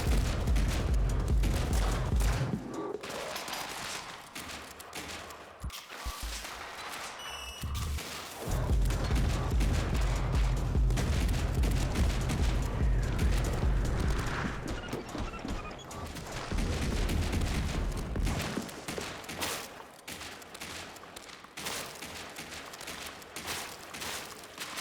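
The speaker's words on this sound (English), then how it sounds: "Now we have these little landmines that shoot bullets when they jump up." Small jumping landmines in the game Shotgun Cop Man burst into loud, dense volleys of bullet fire, heavy stretches broken by brief lulls, close and continuous throughout with no talk.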